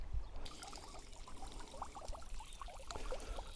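Water trickles and pours steadily into a small fish pond, a continuous close splashing flow with light dribbling detail and no voices.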